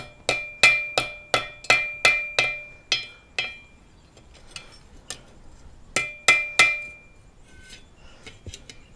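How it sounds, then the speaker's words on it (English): A small metal Mjolnir pendant being hammered flat on an anvil: bursts of sharp, ringing blows in quick even runs, about eight strikes, a pause with lighter taps, then a few more hard ringing hits, close and alone. "Put it back over the anvil and flatten everything out."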